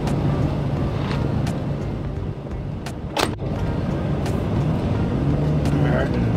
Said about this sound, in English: It sounds pretty good for a 4-cylinder.